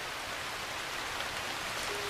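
Rain falls steadily in an Asian forest as an even, dense hiss with no distinct drops or pauses.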